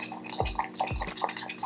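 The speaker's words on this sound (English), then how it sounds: "And stir it up, and that should be fine." Churro pudding with a little egg white stirred by hand, a spoon scraping and clinking against the bowl in a few quick close strokes, with soft rubbing sounds between them.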